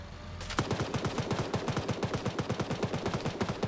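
A 12.7 mm heavy machine gun in a military shooter fires a long sustained burst of evenly spaced, punchy rounds, loud and close, after a brief quiet lead-in.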